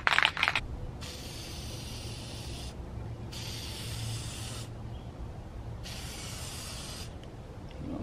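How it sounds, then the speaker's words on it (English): A can of very sticky spray hisses in three separate bursts, each lasting about a second or more, during prep work on a Mk7 Golf R. The bursts are fairly quiet and close, with short pauses between them. "I don't spray this until I'm ready to"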